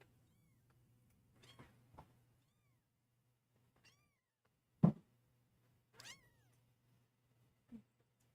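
A small foster kitten gives several short, soft meows spaced a second or so apart, one louder cry in the middle, against a quiet background hum.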